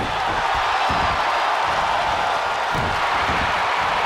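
Stadium crowd noise from a WWE 2K19 wrestling arena show in Tokyo, Japan: a loud, steady roar of a cheering audience that fills the whole stretch without letting up.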